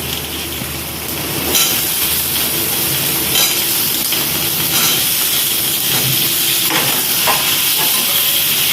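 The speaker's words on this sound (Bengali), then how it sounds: "আলুটার সাথে সাথে পেঁয়াজটাও ভাজা হয়ে যাবে আর পেঁয়াজটার সাথে সাথে আলুটাও ভাজা হয়ে যাবে" Potatoes and onions fry together in a pan, giving a steady, close hiss of sizzling oil that is broken by occasional scraping and stirring noises. No one speaks.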